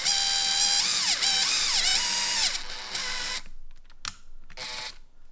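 A power drill fitted with a full-size bit spins at high speed, dimpling plastic while it is held firmly in a drill guide during lung model assembly; a loud, close, steady whine shifts pitch several times, then stops and gives way to brief bursts.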